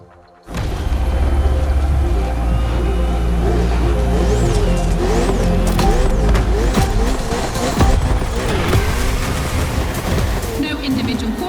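Ferrari race car engine roaring in the video game The Crew Motorfest, a loud sustained drone with shifting revs and tire squeals on a circuit, with voices talking over it.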